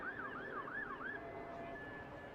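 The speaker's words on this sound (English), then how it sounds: "Constant sirens, isn't it?" Emergency vehicle siren in London wailing in a rising and falling pattern for about a second, then fading to a steady fainter tone, heard at a moderate distance over street background during a cricket match, with no talk.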